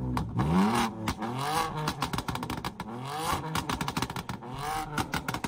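A car fitted with an Akrapovič exhaust revs hard during drifting in Dagestan, its engine note rising and falling in repeated loud sweeps with rough crackling bursts between them, close and continuous.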